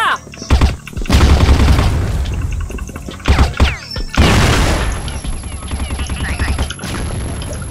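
Gunfire crackles and a grenade detonates in the shooter game CrossFire, loud close bursts of shots with heavy booms and crashes piling up, and a voice calls out amid the din.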